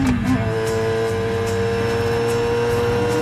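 Formula One race cars starting a race in the film Rush, a loud sustained engine drone with steady tones and revving harmonics, backed by faint repeated whooshes.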